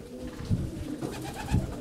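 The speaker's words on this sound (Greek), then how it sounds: "Να, εδώ είναι τα πουλιά." Pigeons or doves cooing outdoors, two low soft coos about a second apart over a steady background murmur.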